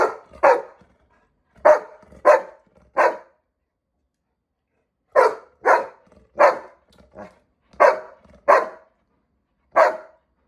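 A dog barks repeatedly in short sharp bursts, a quick cluster, a pause, then another run of barks, close with silence between, excitedly demanding play from a welcome visitor.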